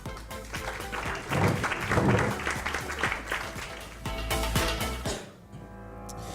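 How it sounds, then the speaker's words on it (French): An audience applauds as a guest speaker comes on stage at a business conference on tech and innovation, a dense burst of clapping that swells, holds, then fades out near the end. "Ilan Benaim, cofondateur de Vente Privée, qu'on peut applaudir"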